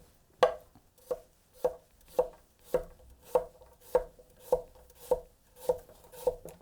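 A Zuma bunka kitchen knife slices through food on a cutting board, giving about eleven crisp, evenly spaced chops at a steady rhythm. Each stroke lands close and clear with no voices.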